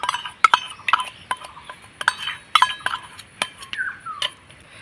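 A spoon stirs a milk powder and milk mixture in a bowl, giving irregular, close, bright clinks and taps against the bowl over quiet gaps.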